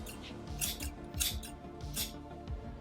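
Scissors snip through the synthetic hair of a Walmart Halloween wig being styled as a Bride of Frankenstein look, with repeated close, crisp cuts in a steady rhythm and no talking.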